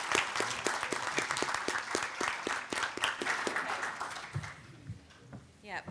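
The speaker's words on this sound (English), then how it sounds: "I just want to give another round of applause to our really terrific panel" An audience at a congress plenary applauds a panel, with a thick burst of clapping and some sharper individual claps, a voice speaking over it, and the applause thinning out toward the end.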